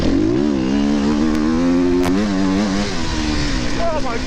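A 300 enduro motorcycle on a dusty sprint enduro course with braking bumps, its engine loud and close, steadily revving and shifting pitch as it rises and falls through the gears.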